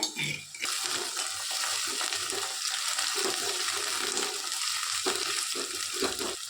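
Green chilli and garlic paste frying in a pan, a watery, bubbling sizzle with stirring that holds steady at moderate volume, broken by a few brief quieter moments.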